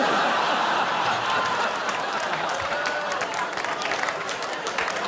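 A noisy studio audience on The Footy Show, with a steady wash of clapping, chatter and scattered chuckles that stays loud throughout.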